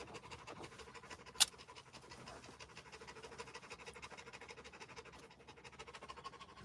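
A Labrador dog pants steadily and rhythmically at close range, quick breathy huffs repeating throughout, with one sharp click partway through and no talking.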